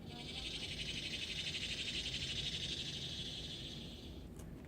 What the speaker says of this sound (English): It's a little cricket.